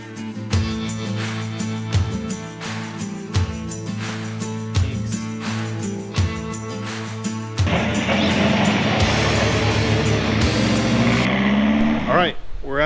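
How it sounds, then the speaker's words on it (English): A Suzuki Samurai with air ride suspension runs its engine, with a tonal drone and rhythmic pulses at first, then a louder, broader rumble as it drives off, ending in a rising sweep. "We are going to take the Samurai around the block for a cruise."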